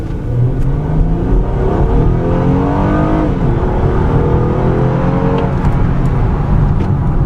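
The V6 engine of a 2016 Acura RDX AWD revs and pulls hard under acceleration, its rising tone climbing steadily over a constant road rumble, with no talking.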